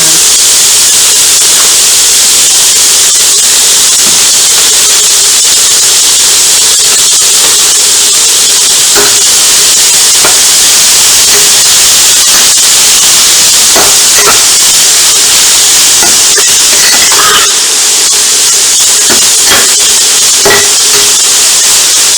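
Bean sprouts and green onions sizzle steadily in hot vegetable oil for a soy curl lo mein, a loud, continuous frying hiss with scattered crackles and clinks of utensils throughout.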